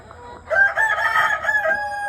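Ameraucana chickens on a farm, with a rooster crowing loudly and close by over soft clucking from the flock, the crow holding steady for about a second and a half.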